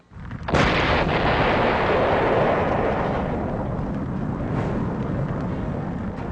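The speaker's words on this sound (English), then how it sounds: "Liquid petroleum gas BLEVEs also have tremendous force, which can turn exploding tanks into airborne missiles." Liquid petroleum gas tank BLEVE explosion: a sudden loud blast erupts after a brief moment, followed by a sustained roaring rumble of the fireball that slowly fades while staying strong.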